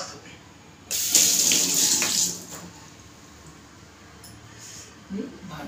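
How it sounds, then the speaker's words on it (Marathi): Water from a kitchen tap runs while hands are washed: a loud splashing burst for about a second, then quieter trickling and a brief final splash, close by. "मी हात धुते थोडंसं"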